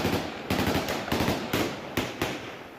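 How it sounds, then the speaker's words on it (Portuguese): Bursts of automatic gunfire from the Taliban in Kabul, Afghanistan, during a street protest with a large Afghan flag; loud repeated volleys roughly every half second, sharp cracks with echoing tails, no voices. "E o Talibã respondeu com tiros"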